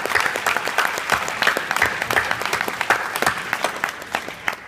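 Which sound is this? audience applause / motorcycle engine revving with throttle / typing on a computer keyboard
audience applause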